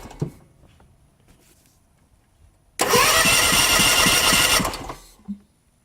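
A brand-new small engine on a cheap used zero-turn mower, just refitted with its push rods, cranks and catches, then runs loudly and steadily close by for about two seconds before shutting off.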